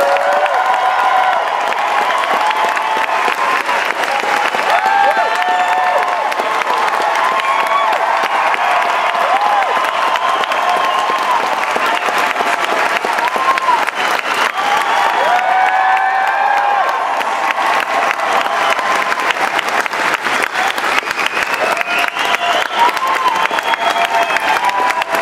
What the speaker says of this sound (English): put your hands together for a nice warm round of applause for